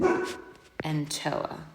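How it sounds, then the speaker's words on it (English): A dog barks in the background indoors, a couple of short yips and barks under a voice talking close by. "Apologize for my dog barking in the background"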